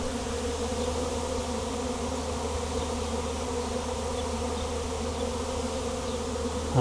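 Thick, unbroken droning of a massive wild bee swarm at a barn, loud and near, holding steady the whole time with a short bump of noise at the very end.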